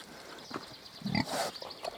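A Hungarian Mangalica pig grunts and snuffles several times at close range, short rough bursts with brief pauses between them.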